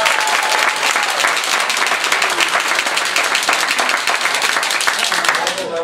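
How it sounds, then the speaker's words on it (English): Loud, dense audience applause at a Toastmasters district speech contest, steady clapping from a crowd held evenly close throughout, with murmured voices mixed in. "So let's give you a round of applause."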